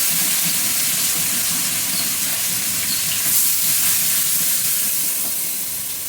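Fish frying in hot oil in a wok, a loud continuous hissing sizzle that stays close and steady for the whole stretch.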